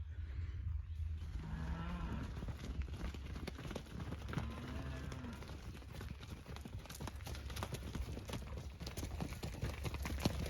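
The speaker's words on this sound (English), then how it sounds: "just bringing the joining age heifers down now" Joining-age heifers mooing faintly in a paddock as they are moved, with low calls under steady outdoor rumble and scattered hoof clatter throughout.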